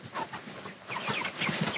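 Chickens on a small homestead cluck in soft, irregular bursts close by, the calls overlapping through steady outdoor background noise with no talking.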